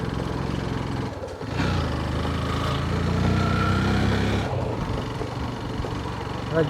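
A motorcycle engine labours uphill on a steep, narrow coastal road in Konkan, with a steady, strained drone that rises and holds, then eases off, heard close.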